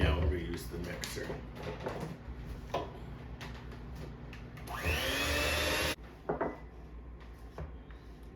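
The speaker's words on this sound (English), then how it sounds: "And now I'm going to use the mixer." A handheld electric mixer beats softened butter in a bowl, a whirring motor burst lasting a few seconds amid kitchen clatter and tapping, fairly close.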